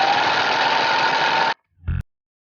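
A sewing machine runs a steady, even stitching burst on a hoodie seam for about a second and a half, then stops, followed by a brief thud of a short back stitch.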